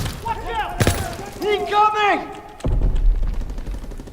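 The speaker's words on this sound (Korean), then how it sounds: "제가 지금 총알이 없어서 독일군 총으로, 총으로 쏘고 있습니다" A captured German rifle fires in the Call of Duty WW2 video game: one sharp, loud crack early on, then a dense, rough barrage of rapid shots filling the final second and a half, with a voice and other game sounds in between.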